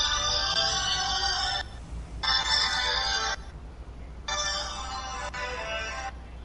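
A telephone rings in three long electronic bursts with short silent gaps between them, loud and close, with no talking over it.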